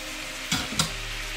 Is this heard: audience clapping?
no